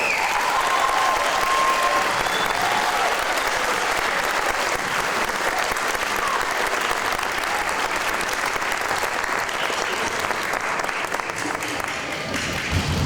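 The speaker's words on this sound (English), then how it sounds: "Let's have one more round of applause for our chorus." Sustained audience applause for a children's chorus at a summer music camp concert, a dense steady wash of many hands clapping at full volume throughout, with faint crowd murmur underneath.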